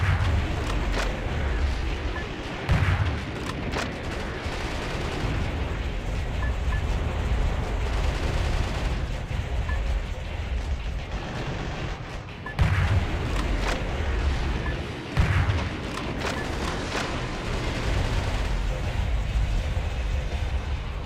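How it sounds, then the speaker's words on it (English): Grenade launcher fire and explosions in the video game Yars Recharged form a dense, loud, continuous rumble with repeated booming hits for the whole stretch. "Let's switch out for the grenade launcher."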